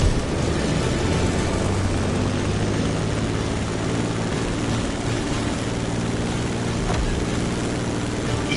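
A propeller airplane drones steadily overhead in the video game The Crew Motorfest, a dense, loud, unbroken engine roar that holds level throughout with no speech.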